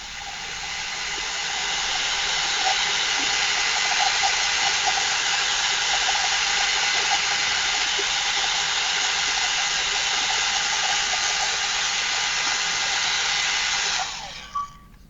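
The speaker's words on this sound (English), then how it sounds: "It's a VS Sassoon. It's like a hair brush dryer thing." A VS Sassoon hair brush dryer blows air in a steady, loud broadband whoosh that holds constant for about fourteen seconds, then switches off near the end.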